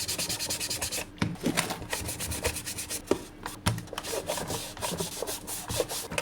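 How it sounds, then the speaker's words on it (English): A cotton bud dipped in thinner scrubs dirty residue inside a broken money counter, making quick repeated rubbing and scratching strokes, close and fairly loud, with no talk. "Clean it with thinner and cotton bud."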